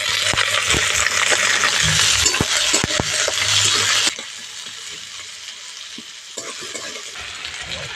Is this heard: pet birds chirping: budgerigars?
no